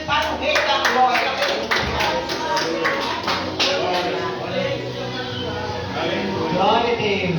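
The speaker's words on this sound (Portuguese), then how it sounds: "As palmas bem fortes para o Rei da Glória." Church congregation clapping loudly for the King of Glory at a Portuguese-language service, rhythmic claps in a quick beat while singing and voices run over the clapping and carry on after the beat fades.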